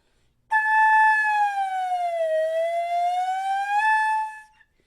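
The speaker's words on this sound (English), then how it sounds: "We can actually make the flute sound like a slide whistle." A single sustained, pure whistling tone that dips slowly in pitch and rises again, like a flute bent into a slide-whistle glide; loud and close.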